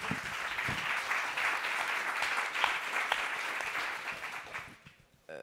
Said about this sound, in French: on a le droit de l'applaudir parce que c'est un super boulot